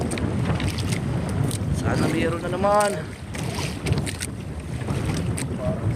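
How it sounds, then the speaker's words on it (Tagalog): Strong wind roars steadily across the microphone on a small boat at sea during crab trapping in shallow water, with water sloshing under it and someone speaking briefly. "Ah, grabe yung hangin."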